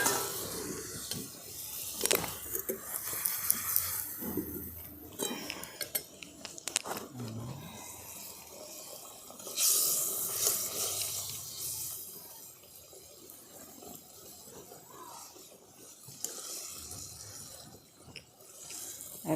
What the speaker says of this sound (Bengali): মাছ আর বেগুনটা দেওয়ার পর ঝোলটা খুব ভালোভাবে ফুটে গেছে